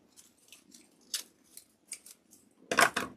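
Scissors trimming and cutting off material, a series of quiet crisp snips at irregular intervals, ending in a couple of louder, sharper cuts.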